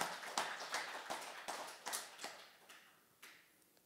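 A church congregation claps in a run of about eight sharp, separate bursts, loud and close with no talk over them.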